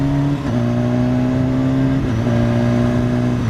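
A 2016 BMW S1000RR motorcycle pulls hard with a steady, loud engine drone, then a quick shifter clicks it up a gear and the pitch drops before climbing again, heard close from the rider's position.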